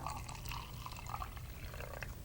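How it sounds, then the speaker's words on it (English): Water pours into a see-through tube as part of a stage magic trick, a soft, steady trickling wash lasting a couple of seconds, fairly faint with no voices over it. "I'll pour water into the tube,"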